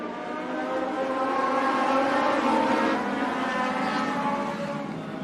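Race cars at Benton County Speedway roaring off together at the green flag, a dense, sustained engine drone that swells slightly in the middle and holds loud and steady throughout.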